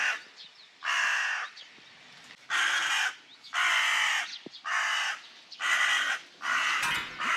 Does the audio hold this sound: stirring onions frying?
no